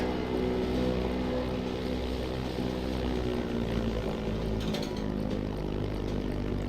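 The hydrofloat aircraft in the game Amerzone roars with a steady, loud engine and propeller drone that fills the whole stretch without a break.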